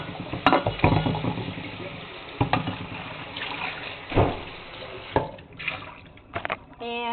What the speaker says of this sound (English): wipe the mouth of it, rinse it out again